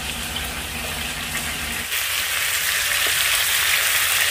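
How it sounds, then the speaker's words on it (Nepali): Tomatoes sizzle and fry loudly in a pan with onions for village-style fried fish soup, with a steady close crackle that jumps louder and brighter about halfway through as fresh ingredients hit the hot oil. "टमाटर लाएर यसलाई चाहिँ अलिक मजाले पकाउने हो"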